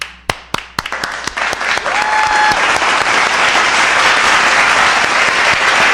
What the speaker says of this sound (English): Let's clap it up, folks.